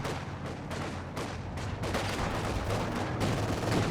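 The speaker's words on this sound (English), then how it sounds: "Got a machine gun pushing forwards here." Video game battle with machine gun fire: a dense, continuous wash of rattling gunfire and battle noise, steady and moderately loud throughout, with brief dips between bursts and no voices.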